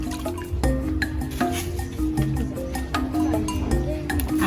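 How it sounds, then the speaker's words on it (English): Tomatoes are washed by hand in a tin of water for an African village dish, with sloshing, dripping splashes and light knocks of fruit against metal in an irregular rhythm. "I'm going to first wash them."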